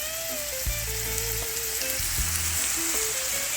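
Dumplings sizzle and crackle in hot oil, a steady close frying hiss, with quiet low thumps and a soft tonal hum in the background.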